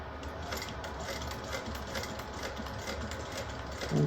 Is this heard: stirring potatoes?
no